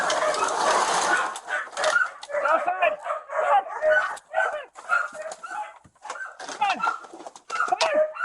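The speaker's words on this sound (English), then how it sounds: "The dog doesn't quite trust this masked stranger" A dog at a crime scene barks and whimpers in a rapid series of short yelps and whines, close by, with people talking in the background.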